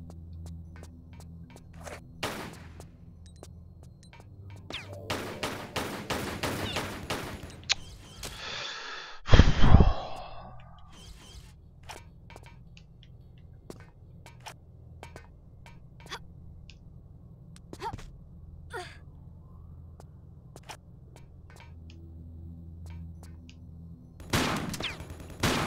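Gunfire in the Tomb Raider game: a rapid burst of shots, then a heavier blast, with sparse sharp clicks and a final short burst over a low game ambience; no talking.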